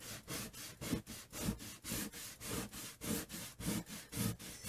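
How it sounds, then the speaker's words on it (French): Rapid back-and-forth rubbing on a scrapbook paper page to clean off tape residue, a rhythmic scratchy swish repeating about three times per second, close and alone. "Ensuite je vais juste nettoyer là où j'ai mis du scotch."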